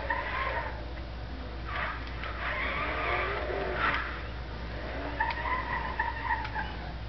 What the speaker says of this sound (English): This is gonna be drifting.